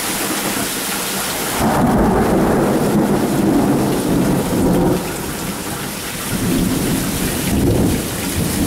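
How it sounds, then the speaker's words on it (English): Rolling thunder booms out of a steady rainstorm, heavy rain drumming on surfaces throughout, with several loud swells of rumbling and no voices. "Crack of thunder?"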